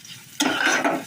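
Cumin powder is stirred into noodles with vegetables in a hot pan: quiet at first, then a sudden burst of sizzling and scraping that continues briskly to the end.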